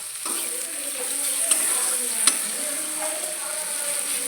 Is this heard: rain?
no